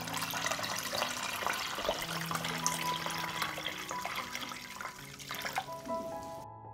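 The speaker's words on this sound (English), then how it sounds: "I pour water up to the height of the lid." Tap water pours steadily into a pan holding jars set on a cloth, ready for pasteurizing, a continuous close rushing splash with a rising hollow tone as the level climbs, then cut off abruptly at the end.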